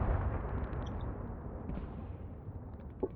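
Distant mortar explosion in the video game Graviteam Tactics: Pivot Point, heard as a sustained low rumble of battle with a faint pop near the end.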